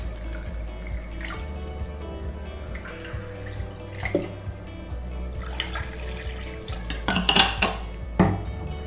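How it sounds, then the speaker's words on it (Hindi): Water is poured into a glass with soft trickling and dripping, mixed with light clinks of glass and utensils, close and fairly quiet. "पहले हम ग्लास में पानी डालेंगे।"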